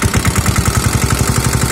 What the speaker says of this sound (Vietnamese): Ngon chứ, máy nổ êm thôi chứ.